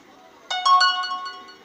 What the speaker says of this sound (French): Désolée pour la petite notification.